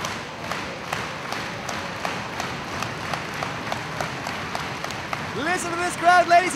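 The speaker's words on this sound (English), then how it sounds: "Listen to this crowd, ladies and gentlemen." A crowd at a wrestling event claps in a steady, rhythmic beat throughout, with a voice rising over the noise near the end.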